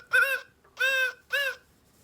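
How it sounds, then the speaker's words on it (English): A great horned owl call played from an electronic children's animal sound book gives three loud, close, reedy hoots in steady succession, each about half a second long, with short gaps between them. "it is a great horned owl."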